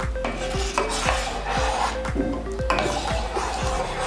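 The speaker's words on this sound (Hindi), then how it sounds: "जब तक दूध बॉईल ना हो जाए इसमें हमने मुसलसल इसको हिलाना है ताकि नीचे से लग ना सके" Rice and milk with cardamom are stirred in a pot for kheer, a spoon scraping the bottom in quick, regular strokes about twice a second, close and clear without talk.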